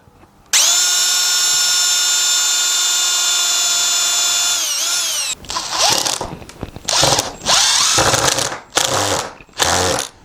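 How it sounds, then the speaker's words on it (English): A power drill with a drill bit bores into the wood of a footstool frame's corner blocks. A sustained, high-pitched motor whine runs for about five seconds, then gives way to short, uneven bursts as the bit bites into the wood. "Then I'll use this drill bit."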